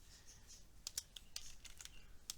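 Light clicking keystrokes on a computer keyboard, a handful of quick irregular taps, close but faint against a quiet room, with no talk.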